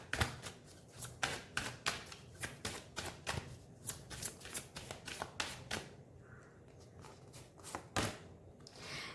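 Tarot or oracle cards are shuffled by hand during a reading, giving quick bursts of papery riffling and slapping taps in an uneven rhythm. The sound is close and moderately loud, with no talking.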